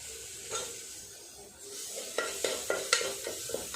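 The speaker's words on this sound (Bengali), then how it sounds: "আদা রসুনটা ভাজা হয়ে গেছে, এরপর দিয়ে দেব কিছু পেঁয়াজের কুচি" Chopped onion dropped into melted butter with fried ginger-garlic paste for chicken momo filling, a soft steady sizzle broken by several sharp spatula scrapes and stirs against the pan toward the end.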